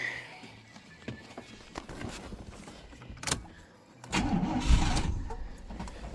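A 1989 Oldsmobile Custom Cruiser wagon that had been blowing black smoke cranks over, with clicks and rustles early on and a louder engine surge about two-thirds of the way through, heard up close.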